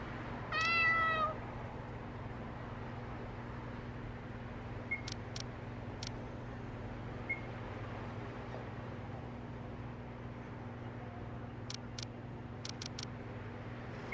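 A stray cat on the top floor of a building at night lets out a single clear, close meow near the start, then a few faint clicks over a low steady hum.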